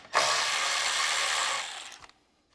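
A hand ratchet with a 1/4 inch socket works the small carburetor bolts of an Ariens 624 snow blower, giving a dense, steady run of ratcheting that lasts about a second and a half before tapering off into quiet.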